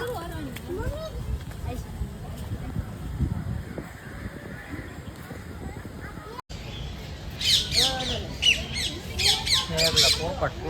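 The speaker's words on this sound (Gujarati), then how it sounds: "પોપટ છે એટલા મિત્રો" Harsh, repeated squawks of parrots at a zoo ring out, growing louder and busier toward the end, with someone talking quietly underneath.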